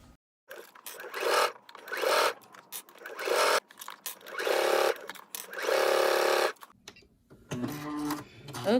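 A sewing machine stitches in several bursts of whirring, each lasting about a second or more, separated by short pauses. Later a few lighter clicks and shuffling handling sounds follow.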